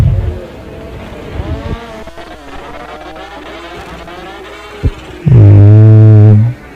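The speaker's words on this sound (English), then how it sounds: "motorcycle making a test hit" A Kawasaki drag racing motorcycle makes a test run at a drag strip, its engine revving and buzzing off in the distance before roaring up close in a loud, sustained blast that cuts off sharply.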